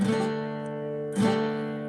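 A single strummed 9 chord on guitar rings out and sustains, then is struck again about a second later, warm and slightly muddy in the low end.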